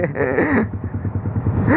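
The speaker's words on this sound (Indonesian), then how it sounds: "Berisik knalpot lu." A motorcycle with a loud exhaust, a matic scooter, rumbles and revs close by, its engine note rising and falling over a short burst, with a voice faintly mixed in.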